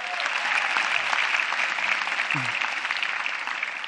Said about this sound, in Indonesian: Boleh minta tepuk tangannya yuk.